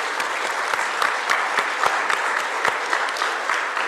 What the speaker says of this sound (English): Please join us in a round of applause for all of our speakers today